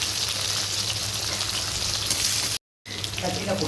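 Small onions and garlic fry close up in hot oil with popped mustard seeds and urad dal, a dense continuous sizzle that cuts out briefly and then resumes.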